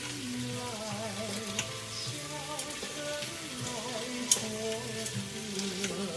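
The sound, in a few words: chicken wings frying in their own fat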